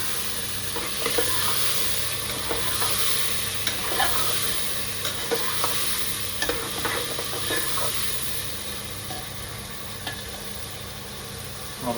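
Spices stirred and fried in a pan, a steady sizzle of oil with a spoon scraping and tapping at irregular moments, close and continuous with no talk.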